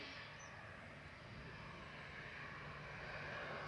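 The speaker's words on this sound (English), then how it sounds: "This is Ryanair off to Limoges." A Ryanair airliner taking off at Manchester Airport gives a faint, distant, continuous engine rumble that swells slightly toward the end.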